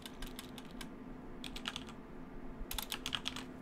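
Clusters of quick key presses on a computer keyboard tap out in short rhythmic bursts with pauses, close and soft, over a faint steady background hum.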